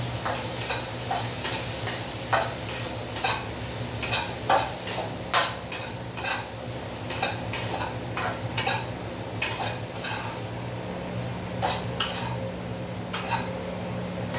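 Mung dal with salt and spices being stirred in a pan, a steady run of scraping spoon strokes with light ticks over a constant low sizzle and hum.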